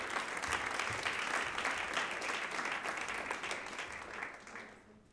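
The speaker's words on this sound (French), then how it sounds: "S'il vous plaît, vous pouvez les applaudir." Audience applause at a French stage show, a dense steady clapping that fills the room for about five seconds before trailing off at the end.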